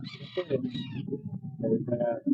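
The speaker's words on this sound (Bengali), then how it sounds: "পৃথিবীর সবচেয়ে ছোট মুরগি ব্যান্থাম প্রজাতির একটা মুরগি জাপানি মল্টেড ব্যান্থাম" A small Japanese bantam chicken clucks and makes short, throaty calls close by, a few bursts over a couple of seconds.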